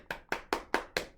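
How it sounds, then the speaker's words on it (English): Five sharp hand claps in a steady, quick rhythm, close and crisp, each with a short bright snap and no talking. "Give them a big clap"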